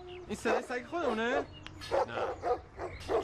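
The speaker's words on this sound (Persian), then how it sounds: "این صدای سگ خودمونه؟" A dog barks in a Persian TV series scene, short barks mixed in with several people talking close by.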